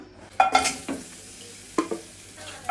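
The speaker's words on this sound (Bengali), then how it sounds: "এখন এই আমগুলো একটু কড়াইতে নাড়াচাড়া দিয়ে নেব" Mango pieces being stirred in a wok for mango morabba, with a few short scraping and clattering strokes that stand out against a quiet background.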